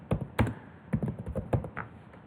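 Fingers typing on a computer keyboard, a handful of soft separate key taps in an uneven rhythm, close and fairly quiet.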